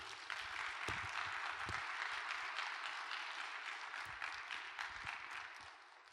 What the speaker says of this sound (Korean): 우리 다 같이 박수로 맞이해 주시기 바랍니다